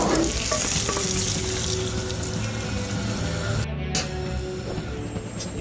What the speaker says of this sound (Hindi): देखें तड़का हमारा तैयार है। अब हम इसमें डाल देते हैं।